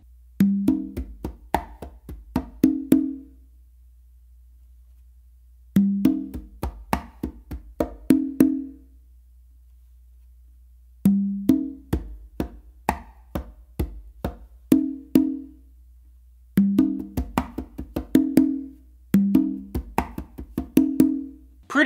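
Congas played in a guaguanco tumbao, with quick finger strokes and open tones on the tumba ending in bass and slap hits, repeating in five short bursts separated by brief pauses, close and alone.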